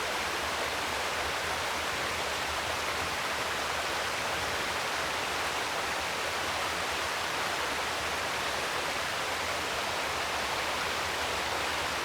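Cool river water running steadily beneath a sprawling beech tree, a continuous broadband rush with no pauses, even and moderately loud throughout, with no voices.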